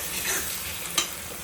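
Food fries in a pan for a Tripura-style dish, giving a continuous close sizzle with the scrape of stirring and a brief sharper clatter near the end, with no talking.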